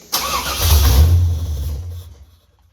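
A car engine starting after an engine swap, with an empty fuel line: a loud close crank that catches into a brief rumbling rev, then fades quickly to quiet.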